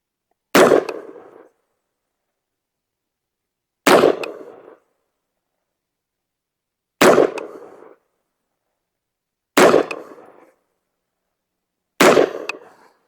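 A rifle with a red dot sight and a 3x magnifier fires five sharp, loud single shots at a target, spaced about three seconds apart, with short echoing tails and silence between them.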